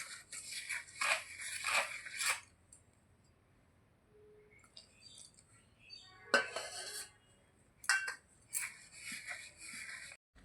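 A spoon clinks and scrapes against a bowl in short, irregular bursts while flour and semolina are mixed with milk into a batter, with quiet pauses between strokes.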